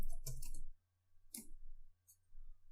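A computer mouse gives a few sharp, close clicks in quiet gaps between bursts of other sound, sparse and brief.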